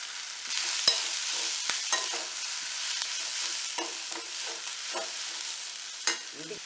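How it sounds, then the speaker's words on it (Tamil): Soaked radish for raita hits a hot pan and fries, a steady bright sizzle with scattered clinks and scrapes of stirring, close and continuous with no talk. "இப்போ நம்ம புளிஞ்சு வச்சுருக்கிற இந்த முள்ளங்கியை போட்டுடலாம்."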